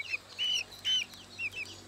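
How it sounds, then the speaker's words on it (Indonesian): A pet chicken in a vegetable garden clucks up close in several short, sharp, separate calls, with brief pauses between them. "aku sudah mendapatkan ayamnya"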